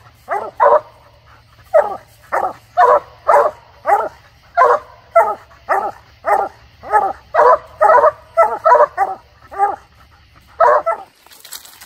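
Bluetick and Walker coonhounds bay and bark repeatedly on a raccoon hunt on public land at night, loud close barks coming in a steady rhythmic series, sometimes doubled, over a low constant hum.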